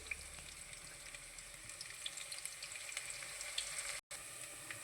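Onions fry in oil for a tuna fish curry, giving a steady close crackling sizzle throughout, with a brief dropout near the end.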